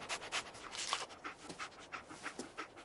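Dogmeat, the dog companion in the video game Fallout 4, pants quickly and steadily, with breathy, rhythmic huffs close by and no talking.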